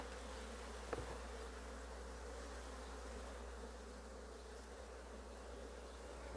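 Honeybees buzzing steadily around an open backyard hive, a dense continuous hum from many insects close by with no voices.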